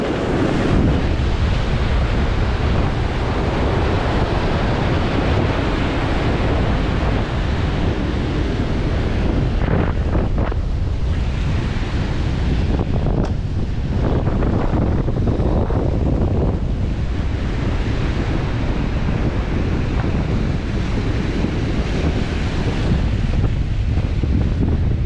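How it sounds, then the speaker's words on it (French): Large ocean waves break and wash in a loud, continuous roar of surf at a fishing spot, with heavy wind buffeting the microphone throughout and no clear speech. "La vague, elle est énorme."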